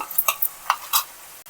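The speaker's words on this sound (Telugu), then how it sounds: "ఇది కూడా చక్కగా వేపుకోవాలండి పచ్చివాసన పోయే వరకు అలాగే వేపుకుంటూ ఉండాలండి" Tomato paste frying for a cauliflower cashew curry, a handful of quick spoon scrapes and stirs in the pan over a faint sizzle, close and fairly loud with no talking.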